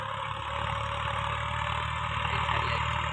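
A new Massey 244 tractor engine runs steadily at moderate revs in medium gear, a constant droning rumble up close with no pauses.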